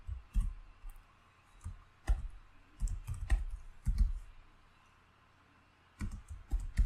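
Code being typed on a computer keyboard, close clicky keystrokes in short irregular bursts separated by brief pauses, with no talking.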